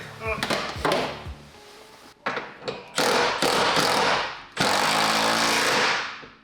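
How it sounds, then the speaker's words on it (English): Impact wrench tightening a bolt on a seat bracket for a Recaro seat install in a Subaru 2.5RS/GC8 car, heard as several short loud bursts of rattling hammering with brief pauses between them, close by. "I'm gonna do the other one with the impact"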